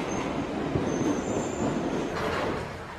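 A London Underground Hammersmith and City line train pulls into the platform, a steady broadband rumble with a high metallic whine and brake squeal running over it for the whole stretch, with no talk.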